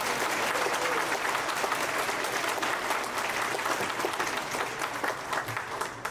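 An audience at a fifth grade orchestra and band fall concert gives a sustained round of applause for music teachers, a dense, even roar of clapping from a large crowd that tapers slightly near the end.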